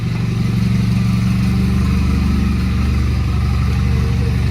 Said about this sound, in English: You got yourself an exhaust leak.